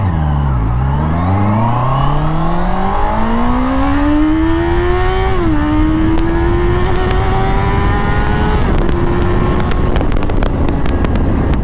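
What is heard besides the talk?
Honda CBR 650R motorcycle engine revving while accelerating through gears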